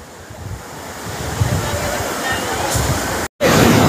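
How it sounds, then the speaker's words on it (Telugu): Ocean waves washing onto an Andaman Islands beach, a loud continuous surf roar with wind buffeting the microphone, briefly cut by a short gap near the end. "ఆ వాటర్ అలలు ముందుకు వస్తా"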